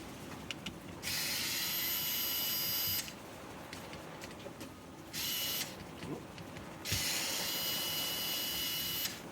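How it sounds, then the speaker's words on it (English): A cheap AliExpress electric screwdriver unscrews the board from a 2.0Ah battery pack for a VaxONEPWR Blade 4 cordless vacuum, several short whirring bursts of a few seconds each, separated by quieter pauses, close and fairly faint. "I'll use my surprisingly not awful AliExpress electric screwdriver for that"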